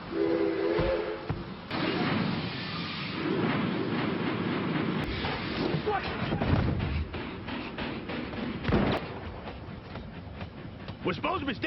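Cartoon Old West train rumbles along with clanking and chugging under excited voices, and a short whistle blast sounds near the start, heard over lively dialogue and background music.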